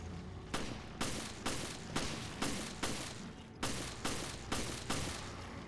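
Gunfire from the video game Resident Evil Revelations: about ten sharp shots in a steady rhythm, roughly two per second, each with a short echoing tail. The shots are moderately quiet and no one talks.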